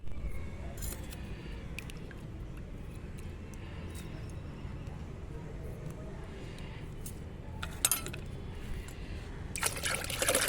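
Potash fertilizer being stirred and diluted into water for hibiscus plants, with soft trickling and sloshing liquid, faint clinks of a container and a brief louder splash near the end.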